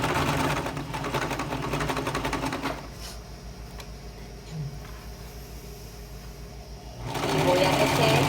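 Sewing machine stitching a seam on women's trousers, running steadily and close for nearly three seconds, pausing through a quieter stretch with faint handling noises, then starting up again loudly near the end; no speech over it.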